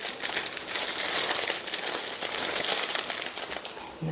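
Plastic or foil wrapping crinkles steadily as its two ends are folded over and twisted like a wrapped toffee, a close, continuous papery rustle that stays fairly even throughout.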